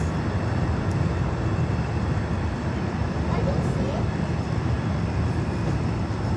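Boeing 737-700 C-40 Clipper jet of the United States, arriving from San Juan, Puerto Rico at Miami airport, gives a steady, broad engine roar that holds loud and even throughout.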